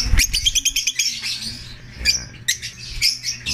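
Breeding hens in a bird sale setting chirp and tweet in quick, overlapping bursts, fairly close and moderately loud, with some soft squawks and no speech.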